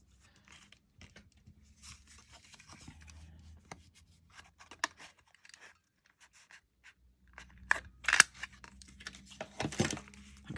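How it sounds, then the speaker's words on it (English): Scissors snip a circle out of paper in a run of short, crisp cuts, with scattered faint crinkles and taps, growing louder and denser toward the end. "Maybe cut a circle out of this one."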